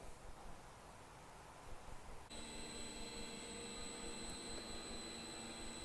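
An end-over-end drum mixer starts up, turning steel drums: broadband rushing noise, then an abrupt switch to a steady mechanical hum with sustained tonal whine that runs evenly to the end.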